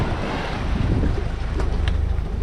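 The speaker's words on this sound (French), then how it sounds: "On a mis le moteur strict ralenti, donc on fait du moteur sync." A Beta Marine 50 hp diesel idles at low revs on a sailboat under genoa in light wind, a low steady rumble blended with constant wind buffeting on the microphone.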